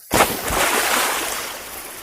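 Half a cup of water poured into a pot of Moroccan shrimp bisque with paprika, turmeric, tomato sauce and tomatoes, opening with a sharp splash that settles into a brief, close sloshing rush.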